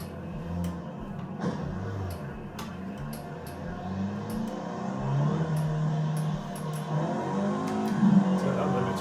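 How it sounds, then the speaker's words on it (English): Race car engine in Project Cars 2 after a driver swap, a low idle and revving that rises and climbs toward the end, with a voice talking over it. "So let's get the engine back up."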